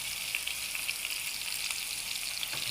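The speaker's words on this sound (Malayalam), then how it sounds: "ഈ ഇതും ഇഞ്ചി വെളുത്തുള്ളിയും കൂടെ അതിനകത്ത് ഇട്ട് കൊടുക്കുക" Ginger and garlic frying in a hot pan: a steady, close hiss of sizzling oil with faint crackles throughout, and no voices.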